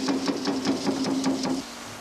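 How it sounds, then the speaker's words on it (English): An Eckold Kraftformer flattens dents and buckles from sheet metal with rapid, evenly spaced mechanical hammer strikes, about five per second, close and loud, stopping abruptly near the end. "The tools used for concentric or spot flattening remove dents and buckles from sheet and deep-drawn workpieces."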